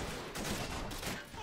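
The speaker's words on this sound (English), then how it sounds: "Lots of Garand clips clipping away." A rapid fusillade of M1 Garand rifle fire in a Normandy landing video game battle, overlapping shots crackling in bursts at mid distance with a dense, sustained roar.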